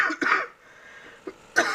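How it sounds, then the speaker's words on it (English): Several harsh coughs from a person in a home workshop setting: two quick bursts at the start, a short one midway and another at the end, close and fairly loud with quiet gaps between. "I'm going to go into a coughing fit"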